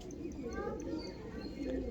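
White desi pigeons cooing softly in a low, rolling murmur close by, with faint chirps mixed in over a quiet background.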